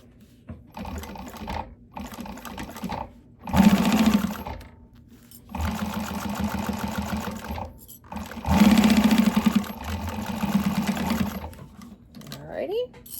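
Sewing machine stitching fabric for a bag in two loud sustained runs of rapid needle chatter, with pauses between and a voice talking in the gaps.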